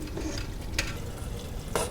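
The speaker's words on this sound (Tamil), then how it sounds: "இதையும் ஆட் பண்ணி விட்டுட்டு மசாலா கூட ஃபுல்லாக மிக்ஸ் ஆகிற அளவுக்கு கலந்து விடணும்." Mutton being stirred into fried tomato masala for biryani in a pan, giving a steady sizzle with a continuous scraping stir and a couple of brief sharp utensil clinks, close and alone.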